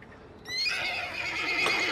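A horse neighs in a loud, close whinny that rises sharply after a brief quiet start and holds through to the end, outdoors with no talk.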